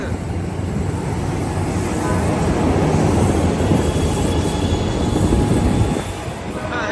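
An Amtrak Capital Corridor train hauled by an SC44 Charger locomotive rolls through Oakland's Jack London Square Station toward Sacramento, with a loud, steady rumble of wheels on rail and some squealing before it eases off near the end.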